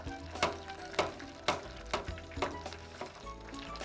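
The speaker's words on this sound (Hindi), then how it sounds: "अब ये जो प्रॉन्स हैं इसको हम फ्राई कर लेते हैं गरम तेल के अंदर।" Prawns fry in hot oil beneath a steady background sizzle, while sharp clatters and scrapes, likely a utensil striking the pan, land about every half second, close and fairly loud.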